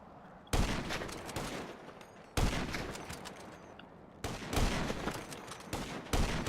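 Loud gunfire bursts in the video game GTA Online, several sharp shots spaced a couple of seconds apart, each trailing into a rumbling echo over steady game background noise.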